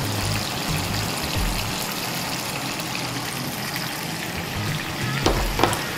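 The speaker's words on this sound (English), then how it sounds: "Our water start to boil" Salted water bubbling and roiling at a steady boil in a pot in a home kitchen, a continuous close hiss and burble with a couple of faint clinks near the end.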